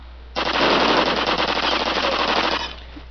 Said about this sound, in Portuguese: Se a metralhadora começar a atirar em vocês, fi, nunca mais para.